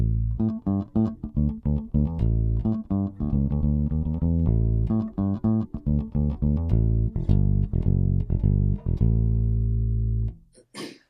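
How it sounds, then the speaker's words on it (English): A handbuilt bass guitar played on its neck pickup with the switch in the center position, giving a deep, rounded run of plucked notes in steady rhythm, close and alone. "if I roll onto the neck pickup, here's what it sounds like, at least in the center switch position"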